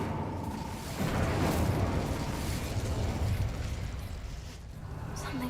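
An Incendio fire spell cast in Hogwarts Legacy, a rushing, roaring burst of flame that swells after the first second and stays loud and steady, then eases slightly toward the end.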